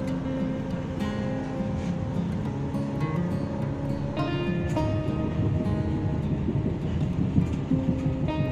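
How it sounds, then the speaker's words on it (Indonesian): KA Singasari passenger train pulling out of Gombong station at night, a steady loud rumble of wheels and engine with tonal horn-like and squealing notes rising and falling throughout. "KA Singasari kembali diberangkatkan dari stasiun Gombong jam 23:51 bosku."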